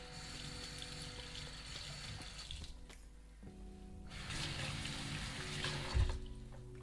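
Water is poured onto a microgreens growing brick, a soft close trickle and splash in two bursts separated by a brief lull, quiet and without speech.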